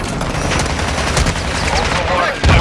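Rapid gunfire in the Call of Duty DMZ video game, dense bursts of automatic shots crackling nearly nonstop over a loud, cluttered background, with a heavier blast near the end.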